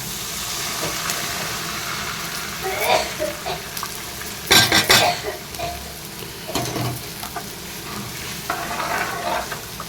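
Ground lentil paste poured into sautéed onions for a Tamil-style curd curry, with a constant close frying sizzle and hiss, louder bursts of stirring and splashing, and faint speech.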